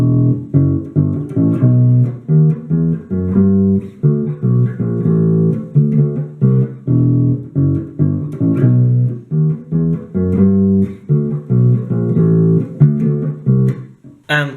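A bass guitar plays the verse of a song alone, a steady stream of plucked, punchy low notes in a driving repeated rhythm, clear and close.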